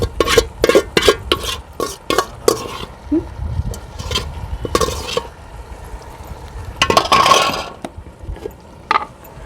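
Boiled mutton goes into spices frying in oil for mutton pulao, with loud close clatter and scraping of a utensil against the pan in quick strokes over a low sizzle, without speech.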